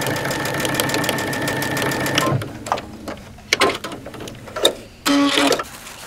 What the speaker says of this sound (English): I would start by stitching across my strap.